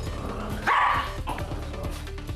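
A pet dog gives a couple of short, sharp barks indoors during a training session, close and moderately loud over a low room background.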